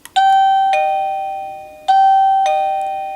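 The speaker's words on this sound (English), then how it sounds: "when you press that doorbell button, the receiver not only makes a sound, but also flashes light" Two ding-dong chimes from a wireless electronic doorbell receiver ring clearly in a quiet room, each pair of tones fading slowly.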